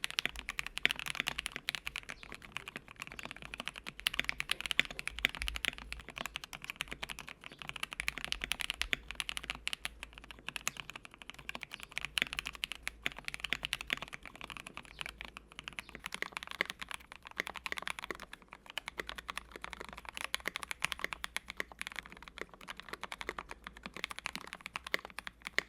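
Rapid, continuous typing on mechanical keyboards fitted with JWick Black and Durock Lavender all-nylon switches, a KBD67 Lite and an Ikki68 Aurora, producing dense, muted clacking keystrokes at close range with no voices.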